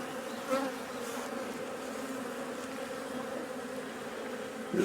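Dense, steady buzzing of many honey bees swarming around a hive, droning continuously at close range with no voices.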